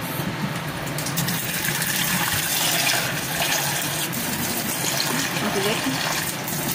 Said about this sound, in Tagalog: kukuha ko ng panibagong tubig para dun sa aking noodles